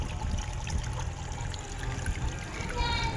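Water from a spring on a hillside trickles and splashes steadily nearby, a soft continuous burble under someone talking.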